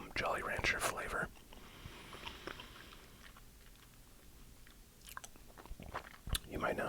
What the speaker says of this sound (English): I'll keep chewing while I talk about this